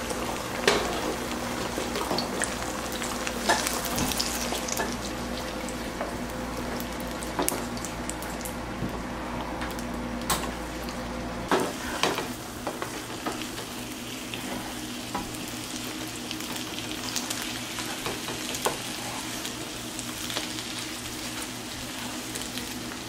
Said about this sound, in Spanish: Puede freír los huevos de 3 en 3 o todos juntos en una sartén grande.